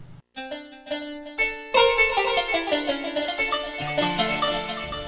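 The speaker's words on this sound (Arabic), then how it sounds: "هذا صوت قانون عندي هون مثلا" Plucked qanun-like tones from a keyboard, a few separate notes then a quick flowing run of bright, ringing plucks, loud and close with no talking.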